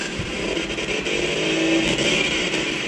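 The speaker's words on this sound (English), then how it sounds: "That's the car sound." A synthetic car engine loop from a car racing video game built in MIT App Inventor plays as a steady, mid-loud drone with a brief tonal whine partway through and no speech.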